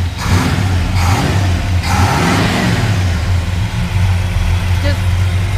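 A 1972 Chevrolet Cheyenne K20 pickup's 350 V8 revs up from idle in several throaty swells, a loud, deep rumble close by, with a person speaking briefly over the engine.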